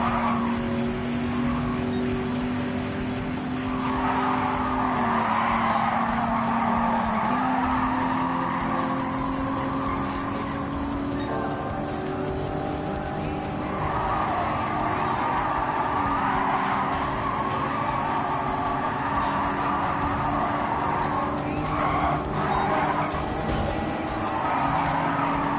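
Racing cars in the video game Gran Turismo 7 roar continuously with steady engine drone and shifting revs, joined by bursts of tire squeal and skidding, loud and sustained throughout with no talk.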